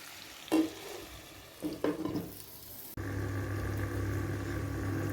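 Chicken pieces fry in a pan for a Tamil-style chicken roast. A few stirring scrapes and bumps come first, then a steady, close, even sizzle sets in and holds to the end.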